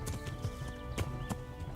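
A horse in Kingdom Come: Deliverance gallops with a steady, rhythmic clip-clop of hooves, fairly faint, under a low background rumble.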